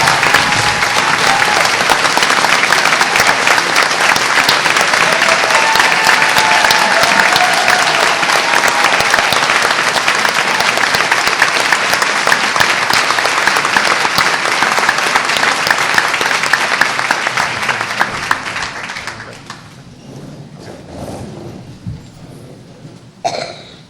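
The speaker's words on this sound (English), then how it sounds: "Let's also give our largest round of applause for our exceptional students" A large audience at a school board of education event applauds the students, a loud and steady round of clapping that fades out after about twenty seconds, with a few coughs near the end.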